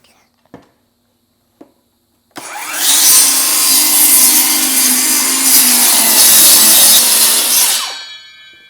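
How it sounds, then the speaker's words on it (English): A power saw cuts a wooden board in half in the shop, with a couple of sharp taps before a loud, continuous rasping whine that runs about six seconds and then winds down. "Let's cut this board in half."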